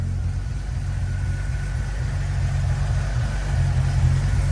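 A 1969 Holden Torana GTR in Daytona Bronze idles steadily with a deep, even engine note, close up and constant throughout with no revving or talk.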